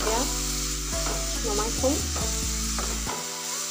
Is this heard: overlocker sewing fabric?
no